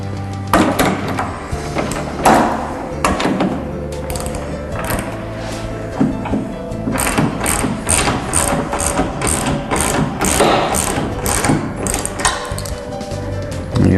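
Bolt being tightened on a Tilt-Away Murphy wall bed during installation, with a large washer centered over the stud; repeated ratcheting clicks and metallic mechanical rattling run steadily through the whole stretch, fairly close and continuous.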